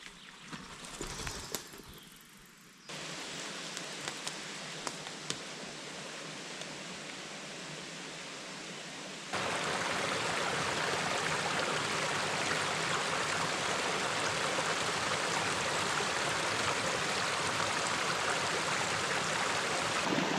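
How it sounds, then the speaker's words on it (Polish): Water pours over the Warmian waterfall in a forest. A faint hiss with a few light knocks at first gives way to a loud, steady roar that continues through the second half. "Słychać już szum wody."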